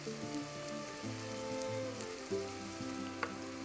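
Split red chilies hitting hot oil in a pan while cooking spinach and dhal, giving a steady crackling sizzle with faint tonal music running underneath.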